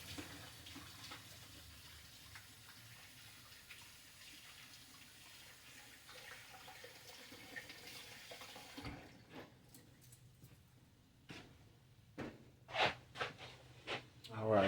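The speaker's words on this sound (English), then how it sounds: "I'm over here washing my hands," Running tap water pours steadily while hands are washed. The flow stops partway, followed by a few close knocks and clatters. A voice speaks faintly under the water.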